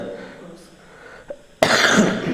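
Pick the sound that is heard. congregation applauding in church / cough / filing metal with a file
cough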